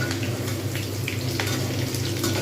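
Pieces of chicken pakora sizzle steadily in hot oil, a close, continuous crackle with occasional stirring sounds and no talking.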